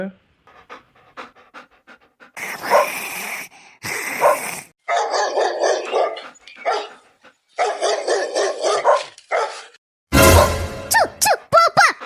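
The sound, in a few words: street dog barking in a cartoon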